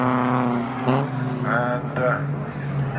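Audi TT race cars circulating at Croft circuit during a club race, steady engine drone holding loud and continuous throughout, with a commentator talking over it.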